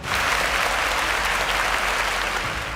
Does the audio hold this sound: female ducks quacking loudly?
no